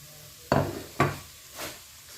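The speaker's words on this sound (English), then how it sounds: "So right now I'm going to be adding my crayfish and my pepper." Crayfish and pepper tipped into a pot of Afang soup already holding palm oil, giving three separate dull knocks and taps about half a second apart, close by, with a faint background hiss.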